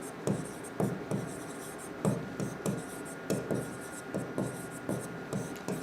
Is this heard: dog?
no